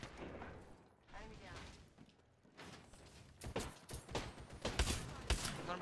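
Gunfire in the battle royale video game Apex Legends, a quick burst of sharp shots building into rapid cracks over the final seconds, heard fairly close alongside other game sounds.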